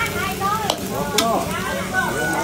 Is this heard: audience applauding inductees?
no